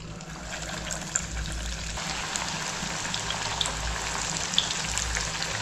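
Sabudana cutlets fry in a pan of hot oil with a steady, close sizzling hiss dotted with small crackles and pops, no voices present.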